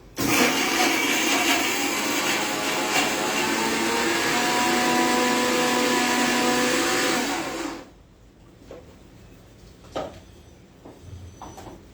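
A kitchen mixer grinder crushes ingredients together with Amul chocolate powder, a loud steady whirring roar that runs for about eight seconds and then cuts off, leaving quiet clinks and small handling sounds.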